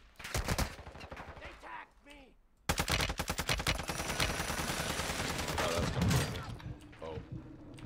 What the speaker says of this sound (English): We're being shot from the opposite side.